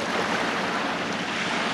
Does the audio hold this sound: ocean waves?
yes